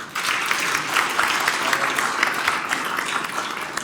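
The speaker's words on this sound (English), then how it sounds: "can we give a round of applause for all of our presenters today?" Audience at a public health and public safety legislative summit applauding its presenters: dense, steady clapping from a room of people that holds at an even level throughout.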